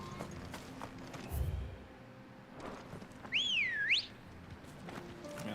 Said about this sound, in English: Man, I wish I could whistle that loud.